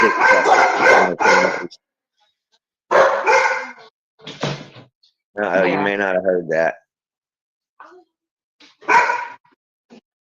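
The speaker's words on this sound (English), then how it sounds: "I'm sorry, my dogs are barking." Dogs bark in several short bursts with pauses between, fairly close and loud, while a person speaks briefly over the noise.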